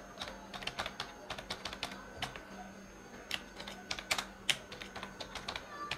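Typing a message on a computer keyboard, a rapid, irregular run of crisp key clicks at close range, continuing for several seconds with brief pauses and no talking.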